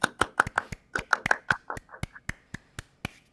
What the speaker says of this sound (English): Give yourselves yourself a round of applause for being here.